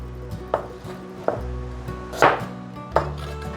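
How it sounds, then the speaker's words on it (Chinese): Knife chopping pumpkin on a cutting board, four distinct cuts landing at an uneven pace over a low kitchen hum, close and clear with no voices. "把南瓜再切一半"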